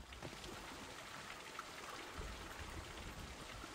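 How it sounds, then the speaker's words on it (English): Rain in the video game The Cycle Frontier falls as a steady, soft hiss with scattered drops and trickling, quiet and continuous throughout. "Damn, the rain sounds good and real here."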